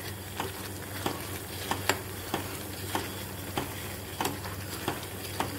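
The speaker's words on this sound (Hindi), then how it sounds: "ये देखिए घी बिल्कुल पकने के फॉर्म पे आ गया है, घी बहुत जल्दी बन जाएगा ये।" Cream simmering down into desi ghee in a pan gives a steady, soft bubbling sizzle, with regular light spoon scrapes and taps from stirring. No one speaks.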